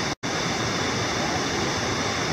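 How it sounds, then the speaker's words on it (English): Huntfish Falls, a small set of waterfalls on Lost Cove Creek, pours out a steady, dense rushing roar close by, broken only by one very short dropout near the start. "this is what's called Huntfish Falls. Pretty little set of falls"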